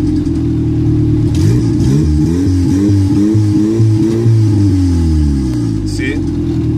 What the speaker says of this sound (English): that's the deceleration fuel cut happening in the end